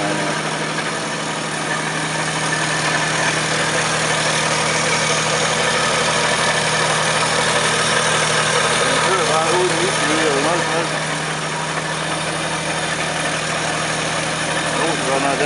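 A Pontiac 3.65-litre six-cylinder side-valve L-head engine of 85 horsepower idling steadily and close up, a continuous even rumble that runs unbroken throughout, with people talking over it.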